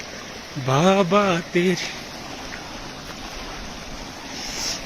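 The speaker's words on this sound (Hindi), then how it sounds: "ये जो वाटरफॉल टाइप आप देख रहे हो" A waterfall near Gangbal lake gives off a steady, broad rushing hiss throughout, with a voice briefly speaking or chanting over it near the start.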